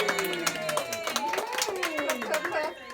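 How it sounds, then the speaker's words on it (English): Guests clap by hand at a first birthday party, a loose burst of claps mixed with cheerful voices and people talking close by. "Clap, clap, clap."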